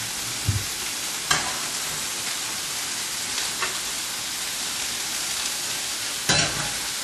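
Beef sautéing in a pan gives off a steady, even sizzle throughout, with a few brief louder crackles and scraping stirs cutting in now and then.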